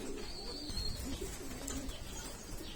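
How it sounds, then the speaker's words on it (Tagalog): Pigeons coo softly and repeatedly, low burbling calls over a steady background with a few faint chirps from other birds. "pakainin po natin yung mga kalapati natin sa taas"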